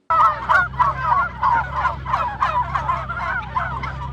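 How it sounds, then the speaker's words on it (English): A group of turkeys gobbles repeatedly in loud, overlapping bursts, close by, with a steady low hum underneath. "these turkeys at Sweetgrass had a whole lot to say"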